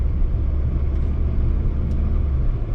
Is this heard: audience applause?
no